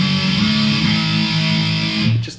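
Guitar through a Keeley-modded Boss DS-1 pedal with distortion fully up, a single loud saturated chord ringing and sustaining before being choked off.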